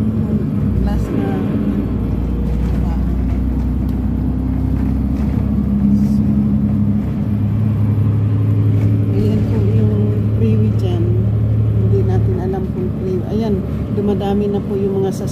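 Freeway traffic makes a steady low rumble of cars driving past, with a voice talking over it throughout.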